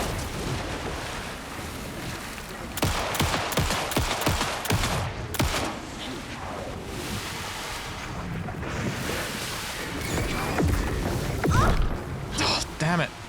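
Gunfire in the horror game Alan Wake 2, a cluster of sharp shots in quick succession mid-way, heard over a rushing, wind-like ambient bed with voices talking around it.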